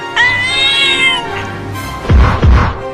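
A loud, drawn-out meow close by from a cat trying to escape a cage, followed by a couple of heavy thumps.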